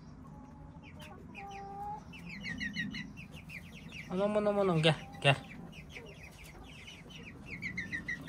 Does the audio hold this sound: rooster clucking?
yes